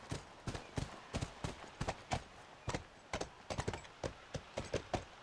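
Horse hooves clip-clopping in the video game The Last of Us, a brisk irregular run of crisp hoofbeats close by, steady in loudness and without talk.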